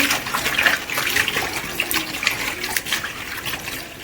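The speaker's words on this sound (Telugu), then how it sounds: "ఇది ఇట్లా కడుక్కుంటేనే చేపలు బాగా చెదిరిపోకుండా ఉన్నాయి." Dried fish are rinsed by hand in a vessel of water, with loud close sloshing and splashing that runs continuously.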